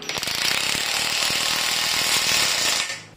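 A compact PUMA PM-233BL cordless impact wrench, 330 Nm and 2,800 rpm, hammers rapidly and loudly up close as it drives a self-drilling screw into steel, a continuous rattling burst of about three seconds that then stops.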